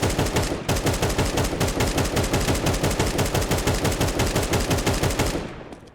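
AK rifle in Counter-Strike 2 fired in a rapid fast-tap burst, about five seconds of loud, tightly spaced shots in an even rhythm that stops abruptly near the end.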